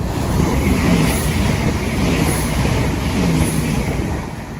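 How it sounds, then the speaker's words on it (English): A class 168 train on a Birmingham Moor Street service rolls through Haddenham and Thame Parkway station, a loud, close, continuous rumble and wheel roar with faint rhythmic clatter. "And the next train to pass by is going to be a class 168 forming a service to Birmingham Moor"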